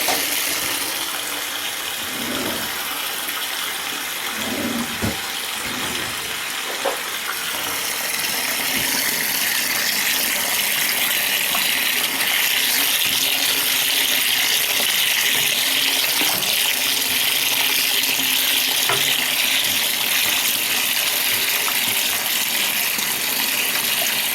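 Running tap water gushes steadily over foraged nettles and other wild plants in a colander, a loud continuous close wash with some splashing and knocking early on, no voices.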